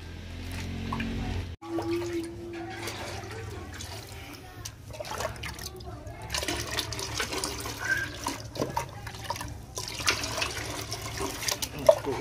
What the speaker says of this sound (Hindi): और थैली भी हम डाल रहे हैं इसमें।